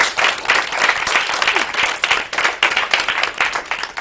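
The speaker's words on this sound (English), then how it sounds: "give you a round of applause" Lively applause from the audience at a youth violin master class, many hands clapping in a dense, fairly close patter that swells and dips in waves.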